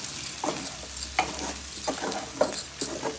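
Chicken pieces fry in a pan with chilli powder, ginger-garlic paste and salt, a steady close sizzle broken by repeated scraping stirs at an irregular rhythm.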